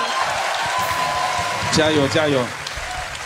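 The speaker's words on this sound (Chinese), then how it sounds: "还是要观众来一点掌声给你" Studio audience clapping at a youth singing competition on television, steady and fairly loud under a voice calling out cheers.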